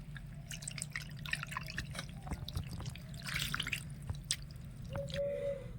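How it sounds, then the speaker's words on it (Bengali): Water trickles a little at a time over fresh chhana cheese held in a cloth, giving close dripping and splashing with soft squishy, wet sounds over a low background rumble. "উপর থেকে অল্প অল্প করে জল দিয়ে ছানাটা একটু ধুয়ে নেব"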